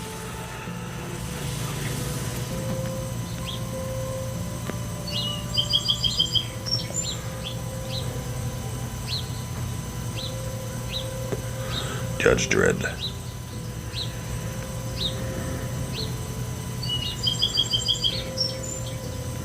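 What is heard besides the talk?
birds singing outside through an open door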